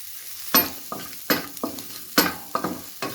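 Onions frying in oil in a pan, heard as a soft sizzle broken by several sharp, close stirring scrapes and clatters at an irregular rhythm, with no voices.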